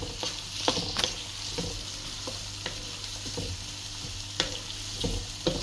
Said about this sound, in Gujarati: તો હવે એમાં આપણે ટમેટા એડ કરી દઈશું અને ફરી પાછું એને મિક્સ કરી લઈશું.